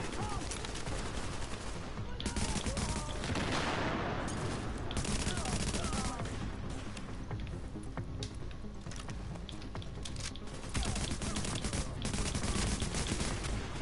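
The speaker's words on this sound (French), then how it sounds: "Je joue un petit peu à la mitraillette" Submachine gun fire in Tom Clancy's The Division, with rapid, dense bursts that run almost continuously across the clip and sit loud in the mix.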